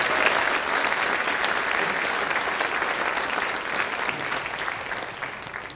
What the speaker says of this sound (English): So how about a round of applause for all those people?